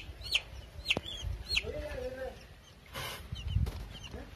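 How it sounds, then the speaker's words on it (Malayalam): A chick hatching from an egg set out in sunlight gives several short, high cheeps spaced through the moment, close by, with low background rustling and bumps. "അതാണ് കോഴിക്കുഞ്ഞിന്റെ കരച്ചിൽ കേട്ടത്."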